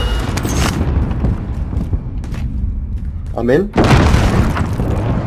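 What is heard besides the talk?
precision airstrike explosions in Call of Duty Warzone video game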